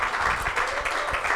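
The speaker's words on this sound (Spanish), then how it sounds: "Denle el aplauso a Jesús porque Él es bueno" A church congregation applauds during a Sunday worship service, a brief, steady wash of many hands clapping together with no talk over it.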